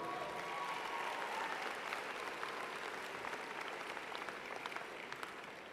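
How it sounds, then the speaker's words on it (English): A large undergraduate commencement crowd gives a steady, dense round of applause that sounds faint and distant and tapers slightly toward the end. "Let's give them a round of applause."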